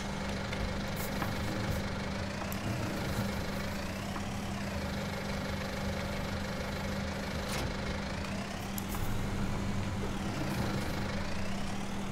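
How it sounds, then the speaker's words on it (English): A tractor engine runs at a steady idle, a continuous low hum with faint vibration and no talking, fairly quiet and even throughout. "We'll use this tractor."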